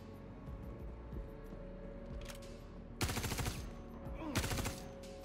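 Bursts of automatic gunfire from the Star Citizen video game rattle over a steady engine hum, with two dense rapid volleys near the end and a lighter burst before them.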